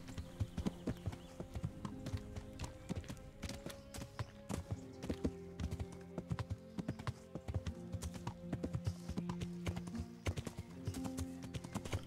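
Horse hooves clip-clop steadily in the medieval role-playing game Kingdom Come: Deliverance, a rhythmic run of near, crisp hoof strikes over a bed of in-game ambience and music.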